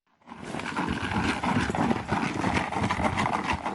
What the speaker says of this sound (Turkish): Gece gündüz doğada sürüler halinde dolaşan yılkı atları